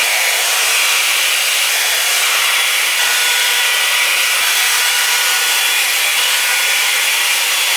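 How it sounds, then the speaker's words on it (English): A Revlon One Step 1.5-inch round blow dryer brush drying hair, producing a loud, steady, close airflow whoosh and motor hiss that runs unbroken throughout. "I'm just going to brush it slowly as then I'm letting like the airflow start drying the hair"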